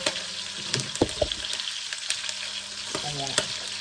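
Garlic frying in hot oil in a pan, a steady close sizzle with sharp popping splatters and occasional clanks of a utensil stirring, no talk.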